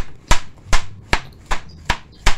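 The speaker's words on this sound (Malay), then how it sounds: "Potong kecil-kecil carrot." A carrot chopped into small pieces on a cutting board: six sharp, evenly spaced knife chops land about every 0.4 seconds, close and distinct against a quiet background.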